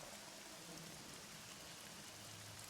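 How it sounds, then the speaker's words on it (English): Rain falls in a steady, even hiss that stays faint and unbroken throughout. "So it's raining, and the birds are in the trees"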